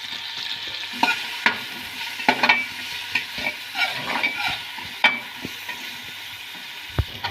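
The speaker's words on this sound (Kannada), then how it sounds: "ಪುದೀನ ಪಲಾವ್ಗೆ ಸ್ವಲ್ಪ ತುಪ್ಪ ಹಾಕ್ಕೊಂಡು ನೀರುಳ್ಳಿ ಹಾಕ್ಕೊಳ್ತೇನೆ" Onions frying in ghee in a pan for mint pulao, with a steady close sizzle broken by a series of sharp spatula knocks and scraping stirs against the pan.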